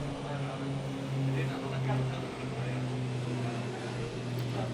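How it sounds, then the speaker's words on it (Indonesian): A low, droning engine rumble of an aircraft passes overhead, its pitch wavering slightly, with faint voices and background noise. "Ada suara pesawat."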